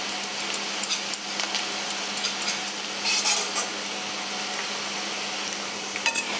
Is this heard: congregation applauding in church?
no